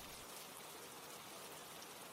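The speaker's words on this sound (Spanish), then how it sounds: "La noche era muy fría y comenzó a llover." Steady, even rain hiss at night, a continuous soft wash of falling drops with no other sounds.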